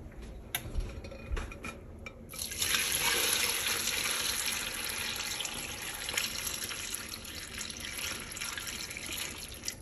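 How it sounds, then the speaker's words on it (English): Water poured into a pot of dried apples, a few clinks at first, then a steady rushing splash that starts abruptly and continues close and fairly loud to the end. "So now I'm going to add some water."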